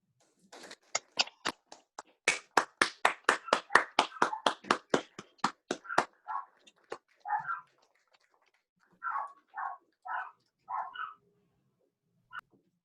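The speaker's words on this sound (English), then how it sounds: "Please join us in one final applause for Ken on his new journey called retirement" A small group claps at a retirement ceremony, a steady run of sharp, close hand claps that thins out into a few scattered claps and a final single clap.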